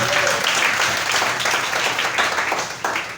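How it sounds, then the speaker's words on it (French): A church congregation applauds, a dense, steady wash of many hands clapping together, loud and continuous throughout. "Si tu es d'accord, acclame le Seigneur Jésus."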